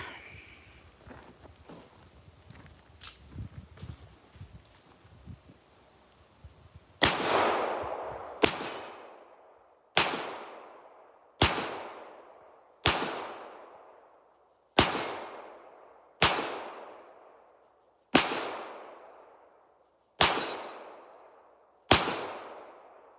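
A 1911 pistol fires in a backyard: about eleven loud, sharp shots spaced roughly every one to two seconds, each with a decaying echo, after a stretch of quieter handling noise.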